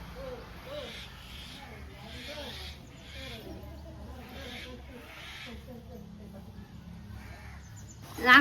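Birds call repeatedly in a quiet village near Virudhachalam, Cuddalore, with faint, rhythmic chirps and caws over a calm, low background that ends in a sudden louder knock.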